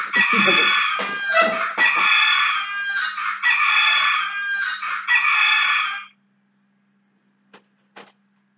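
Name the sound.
rooster crowing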